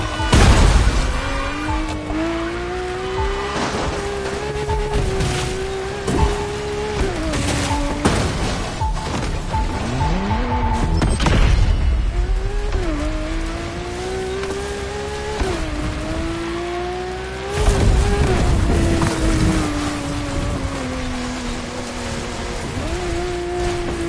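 Racing car in The Crew Motorfest drifting around a festival drift track, engine revving with rising and falling harmonic pitch and tire squeal, loud and continuous, with rough hissing texture and a few sharp bursts.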